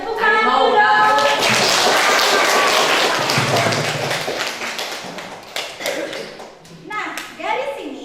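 Classroom of schoolchildren clapping hands together during a dynamic electricity STEM science lesson, a dense burst of claps that gradually thins out into scattered taps and children's voices.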